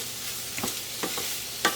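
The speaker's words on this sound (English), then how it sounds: "we're just going to let the sausage meat cook a little bit here" Sausage meat browns in a hot pan with a steady close sizzle, broken by a few scraping stirs of a utensil and a sharper clack near the end.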